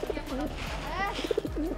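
Pigeons coo in soft, repeated rolling calls close by at a busy outdoor spot in Sanya, China, while someone talks over them.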